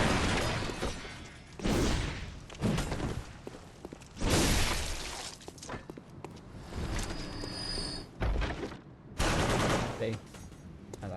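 Traps in Bloodborne fire in loud repeated bursts while a pressure switch is held down, sharp blasts and clattering volleys recurring in clusters across the stretch.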